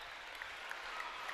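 A crowd at an NCAA women's volleyball match between Kentucky and Indiana applauds in a dense, sustained wash of clapping and cheering from a large arena audience.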